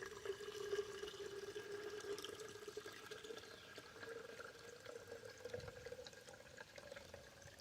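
Water is poured from a heavy pitcher in a steady, quiet stream, a faint continuous trickle with a slight ringing tone as it fills a container.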